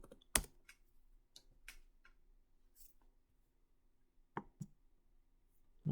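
Scattered keystrokes on a computer keyboard as a password is entered, a few sharp clicks spread across a quiet stretch with longer pauses between them.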